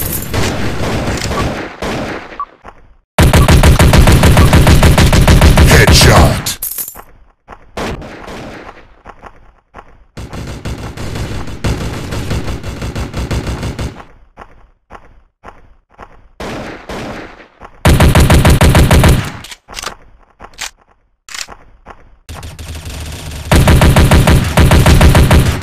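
Rapid automatic gunfire from the Block Gun FPS PvP mobile shooter, loud bursts of full-auto fire alternating with scattered single shots and short pauses, no voices.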